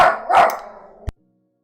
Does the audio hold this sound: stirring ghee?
no